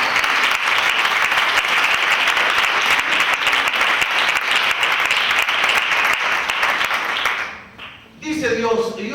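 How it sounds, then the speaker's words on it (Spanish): A church congregation breaks into loud, sustained applause for the Lord, a dense wash of clapping that runs steadily before dropping off abruptly near the end, when a voice begins speaking. "den un fuerte aplauso al Señor"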